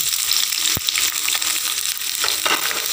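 Chopped onion, ginger, green chili and curry leaves sizzle loudly in hot oil for a prawn dish, a close, continuous frying crackle with a sharp clack of a spoon against the pan early on.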